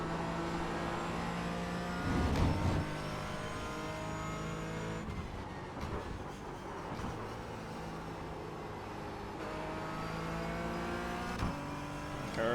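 A Porsche Cayman GT4 race car laps Watkins Glen, its engine revving up and down through rising and falling gear pulls, loud and close from inside the car, with brief bursts of braking and downshifting.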